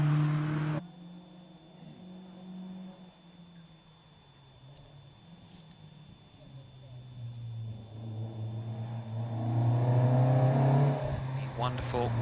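A white Lotus Elan race car on the throttle through Kennel Bend, its engine rumbling steadily at a distance before swelling louder as it accelerates, with commentary running over it.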